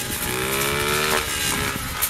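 A motorcycle engine held in first gear, a steady buzzing drone with slight rises in pitch, close and loud with no talk over it.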